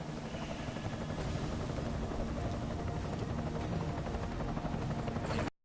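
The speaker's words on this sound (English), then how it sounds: "Enemy helo sighted." Helicopter in the video game Deus Ex: Mankind Divided, a steady close rotor drone with rapid blade chop that holds evenly throughout, then stops abruptly at the end.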